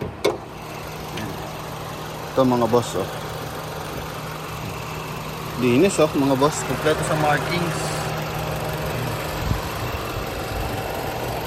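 Steady low idle of a Mitsubishi Lancer GTA EX 2.0 engine with automatic transmission and low mileage, heard up close in the open engine bay as someone talks over the even hum.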